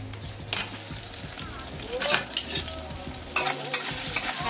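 Bottle gourd peel frying with onion in hot oil, a steady close sizzle broken by several bursts of stirring and scraping in the pan.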